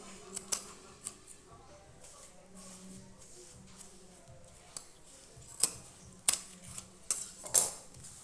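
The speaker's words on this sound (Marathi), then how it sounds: "तर राहिलेलंही कट करून टाकू" Scissors cut through cloth while a three-pocket bag is being sewn. A few sharp, close snips cluster near the end against a quiet room background, with no one speaking.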